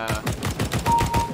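Rapid automatic gunfire from holding the trigger in CS:GO, a close burst of about ten evenly spaced shots over a little more than a second.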